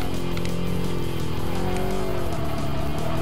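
A race car engine in the video game Kaido Racer 2 drones steadily as the car skids off into gravel, with shifting engine tones and a scraping rumble underneath, loud and continuous.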